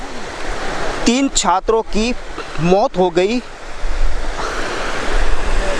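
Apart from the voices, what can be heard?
water flowing through an anicut (small dam)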